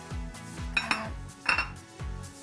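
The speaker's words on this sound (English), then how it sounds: "Just chuck that in your blender." Pineapple pieces are tossed into a blender jar during live cooking, making a few hard clinks and knocks against the container over a low repeating thump, with no talk.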